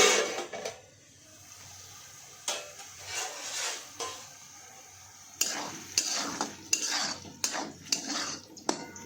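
Potatoes stirred and checked in a pan while cooking for sabudana khichdi, with intermittent scraping and clinking of a utensil against the pan over a faint low sizzle, the strokes becoming busier and more frequent toward the end.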